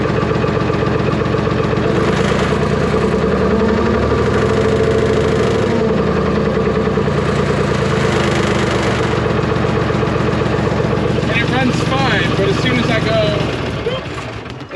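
New Holland skid steer engine running steadily at a loud, close idle with a rough, knocking mechanical drone that continues unbroken before dropping off near the end.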